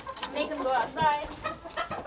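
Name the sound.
roosters clucking in coop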